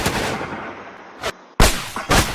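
Gunfire from a gun in the video game The American War on a shooting range, several loud sharp cracks with brief decaying tails, spaced unevenly and close.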